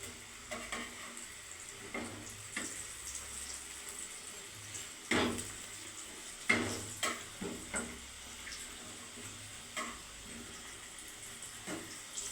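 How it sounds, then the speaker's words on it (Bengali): Khasta gaja sweets deep-fry in oil, a quiet continuous bubbling sizzle broken by intermittent scraping and stirring knocks, close and faint with no talking. "লাল করে ভেজে দিচ্ছি"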